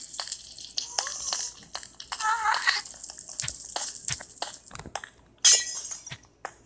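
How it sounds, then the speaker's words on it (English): A glowstone block in the Minecraft video game breaking like glass, with several sharp clinks and crunches scattered through the stretch and one bright shattering burst near the end, heard against quiet background noise. "It's like glass or something. It was glowstone"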